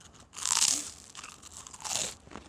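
Close, crisp crunching of well-toasted, slightly burnt toast from a De'Longhi toaster being bitten and chewed, two loud crunchy bursts with quieter chewing between them.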